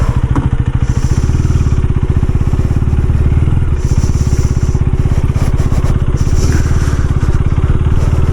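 A KTM Duke 390 motorcycle with a clutch problem runs close by, its single-cylinder engine pulsing in a rapid, steady idle beat with brief louder revs, loud throughout and with no talking.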